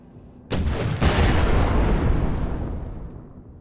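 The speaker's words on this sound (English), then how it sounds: "use a grenade on it" A grenade explodes in the video game Wolfenstein: The New Order, a sudden loud blast followed by a second heavy boom that rumbles and slowly fades over a few seconds.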